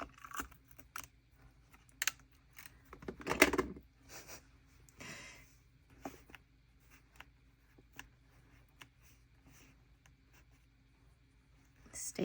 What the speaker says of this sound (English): Sticky tape.